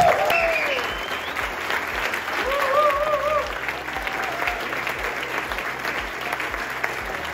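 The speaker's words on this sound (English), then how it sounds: "So please give a huge applause for the founder of the project, Johannes." Audience applause at a live digital nomad event in Croatia, a dense burst of clapping from a crowd that peaks early and then tapers to lighter, scattered claps.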